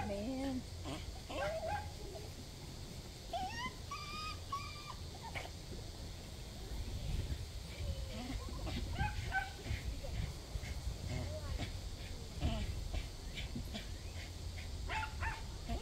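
A dog whimpers and gives small yips and whines, with a few soft barks, close by over a steady background hum, at a den hunt trial.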